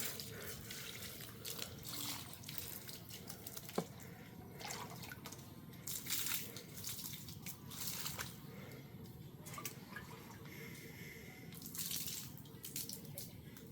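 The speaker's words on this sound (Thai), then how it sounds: "ให้เพิ่นล้างแขนล้างขาก่อน" Water runs from a tap while arms and legs are washed. The splashing flow is continuous and fairly faint, with small drips and shifts in the stream.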